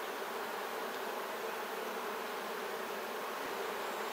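Honeybees hum softly and steadily inside a horizontal beehive opened for inspection after winter, a faint, even drone close by with no talking.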